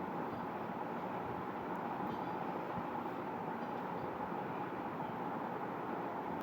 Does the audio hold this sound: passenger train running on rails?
yes